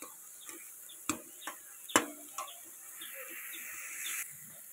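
Thick carrot laddu mixture being dry-fried in a pan, with a steady soft hiss and a few sharp scraping and clinking strokes of a spatula against the pan, quiet and close, with no talk.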